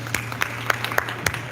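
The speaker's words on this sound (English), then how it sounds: "big round of applause to Rico" A small audience claps for a man named Rico at a modeling event in the Philippines, a brief scattering of distinct claps at an uneven rhythm over a low steady hum.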